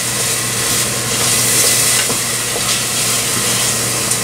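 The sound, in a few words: mixing carbonara sauce with thickening agent in pan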